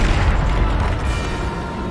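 Depulso spell in a Harry Potter video game bursts out as a heavy, booming low-end blast, loud and close, rumbling steadily for about two seconds.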